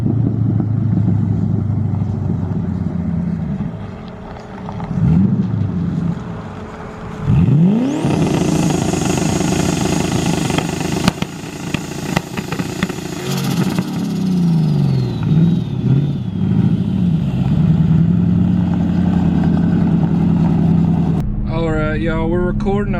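A car engine idles and revs near a turbo IS300, then an engine sweeps up in a loud acceleration with a rising whine before settling back. The rumble continues in uneven surges, and a person talks briefly at the end.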